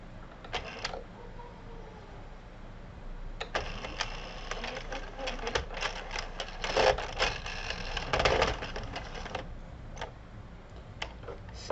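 A sewing machine runs in short bursts of rapid stitching, three stitches then a skipped needle, its ticking needle clatter close and fairly loud, with pauses between runs.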